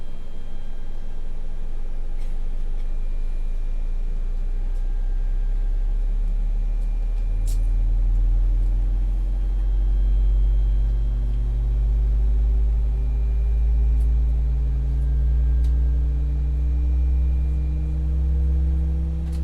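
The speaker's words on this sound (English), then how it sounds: "Engine number 2 over to the start position. Enjoy these sounds, friends." The number 2 engine of an Airbus A320 in X-Plane 11 spools up inside the cockpit, a low rumbling hum with whining tones climbing steadily in pitch over a constant background drone, with no talking.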